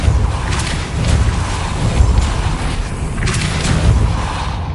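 Depulso force spell cast in a Harry Potter video game, a run of dull booming impacts with crashing bursts, loud and continuous across the clip with repeated thuds.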